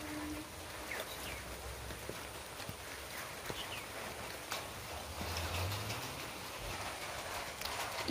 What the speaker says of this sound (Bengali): এই দেখো বৃষ্টি করছে